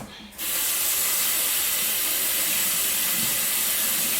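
A tap turns on and water gushes steadily into a sink with a strong, even hiss while chicken pieces are washed, sounding close and continuous throughout.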